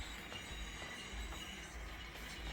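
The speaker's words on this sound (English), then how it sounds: "We're going to connect to this train" Model train rolling through a railroad operating session, a steady low rumble of wheels on track with faint squeal, continuous and fairly quiet, with no talking.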